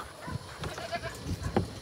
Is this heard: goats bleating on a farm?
yes